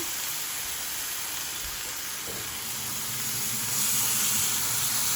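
Seasoned steak searing in a hot pan, giving a steady, close sizzle and frying hiss that grows a little louder toward the end, with no talking.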